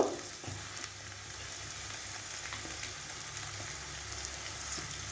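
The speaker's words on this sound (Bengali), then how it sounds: "ঢ্যাঁড়সটাকেও আমি একটু 5-7 মিনিট ধরে ভালো করে ভেজে নেব" Okra sizzles in a pan as a spicy, tangy masala bhindi cooks, a soft, even crackle that runs steadily throughout with no talking.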